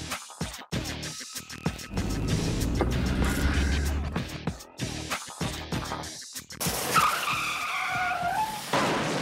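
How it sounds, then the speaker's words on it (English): Car tires screech and skid in bursts during a staged two-car crash on Allington, loud and close, with shouting voices and jolting impacts mixed in. "Two-car accident on Allington."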